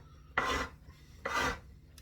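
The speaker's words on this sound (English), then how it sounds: "So I'm going to work with my rasp." Two rasp strokes file down the wood of an over-high nut on a 130-year-old W.E. Hill & Sons violin, each a short, close, gritty scrape about a second long with a brief pause between, no talking.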